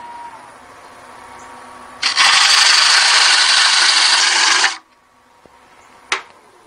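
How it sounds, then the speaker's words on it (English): Sandpaper wrapped on a board rubs across a wooden twig vase edge in one sustained, loud, close scraping stroke lasting a few seconds, followed by a short sharp tap. "Got a piece of sandpaper on a piece of board that spans it, and just going to sand that down a little bit."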